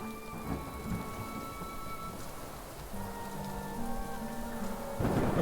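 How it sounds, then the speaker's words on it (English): Steady rain patters across surfaces in the game Little Goody Two Shoes while low thunder rumbles and swells toward the end, with soft tonal music underneath. "I'm running home so we don't have to hear the thunder anymore."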